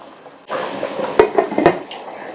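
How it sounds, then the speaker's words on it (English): A metal lid clatters onto a cooking pot of coconut yam porridge, followed by a few light clinks and scrapes over a soft bubbling simmer. "I'm going to cover this to simmer again."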